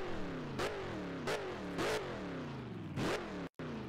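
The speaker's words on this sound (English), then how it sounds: "Bringing the revs up." A race car engine in the video game Project CARS, an XRL GT3 car at Bathurst, climbs in pitch repeatedly, each rev rising sharply then dropping as gears shift, with a brief cut near the end.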